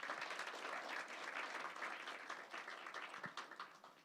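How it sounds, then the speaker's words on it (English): Audience applause at a community event show, a dense steady wash of many hands clapping that holds loud for the whole stretch and begins to thin slightly toward the end. "they deserve another round of applause"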